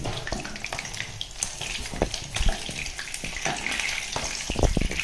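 Fish pieces shallow-frying in hot oil for a homemade Raju-style fish curry, giving a steady crackling sizzle with sharper spits and pops scattered throughout, close and fairly loud with no talking.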